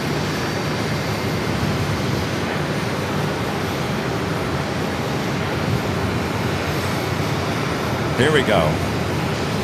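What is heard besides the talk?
Boeing 737 airliner arriving from Chicago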